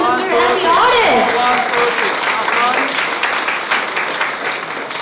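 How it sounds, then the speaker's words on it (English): An audience at an art exhibition applauds the minister and the artists, steady clapping from a crowd with voices and chatter mixed in throughout. "can we have a big round of applause for Minister and the artists?"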